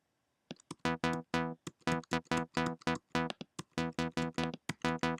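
Progressive house synth stab with a boost near 1200 Hz adding bite to the attack, played as a rapid run of short, punchy, evenly spaced hits with a bright, buzzy tone, nothing else behind them.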